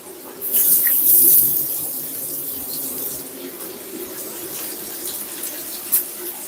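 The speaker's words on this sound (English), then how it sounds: "So I'm going to wash my hand and finish up the process." Tap water runs steadily into a sink while hands are washed during curry cooking, a soft continuous splashing hiss at close range with a small clunk near the end.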